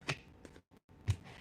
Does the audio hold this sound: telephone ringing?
no